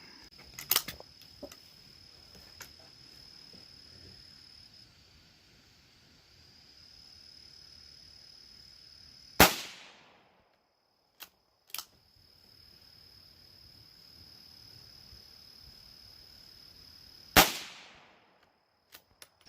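Two sharp rifle shots from a Mossberg Chuckster 640K bolt-action in .22 WMR at an outdoor range, spaced several seconds apart, each a loud crack with a short decaying tail, faint handling clicks and quiet ambience between them.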